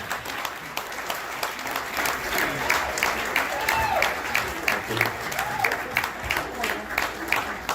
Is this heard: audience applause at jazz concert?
yes